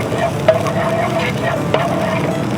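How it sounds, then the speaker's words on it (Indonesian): Garlic sautéing in a hot pan, a steady sizzle with occasional scrapes and clinks of a utensil stirring, close and even throughout with a faint background hum. "kita tumis lagi"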